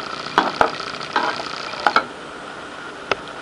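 Cabbage and peas poriyal stirred in a pan with coriander leaves: a spoon scrapes and taps the pan in several short strokes over a faint sizzle, close by, with no talking.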